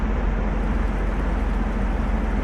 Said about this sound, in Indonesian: Ia pun mengegas motornya menuju ke sebuah jembatan.